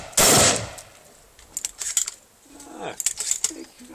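A single sharp shotgun blast sounds close up at the start, followed by clicks and mechanical handling noises with brief speech in between, at an outdoor shooting session.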